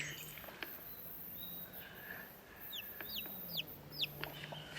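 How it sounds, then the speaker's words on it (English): Repeated high, thin peeps from a newly hatched chick among broody hens, several short rising chirps clustered in the latter half over a hushed, steady background with faint clucking. "a new hatched chick. It keeps peeping and moving."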